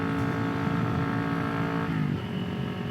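A 2021 Kawasaki Ninja 400 engine screams at its rev limiter in first gear, a loud, continuous high-pitched whine heard up close, with a slight drop in pitch near the end.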